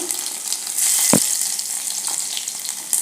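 Crushed garlic cloves dropped into a hot mustard-seed and cumin tempering for dal set off a bright, steady sizzle, with a brief low thump as they land; no talking.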